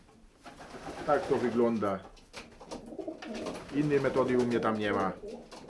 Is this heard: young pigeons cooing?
yes